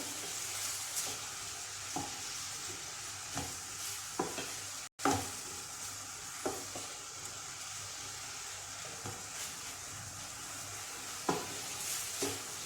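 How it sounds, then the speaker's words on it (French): Onions frying in a pan until golden and tender, a steady soft sizzle with occasional light stirring scrapes and clicks, close and fairly quiet, no talk. "Je vais laisser ces oignons jusqu'à ce qu'elles prennent la couleur dorée et qu'elles soient"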